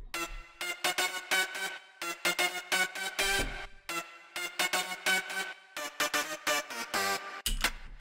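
An EDM future bounce synth lead made in FL Studio, with big reverb whose wet level is automated, playing a choppy rhythmic melody of bright stabs over a pulsing beat that swells into washy tails near bar ends.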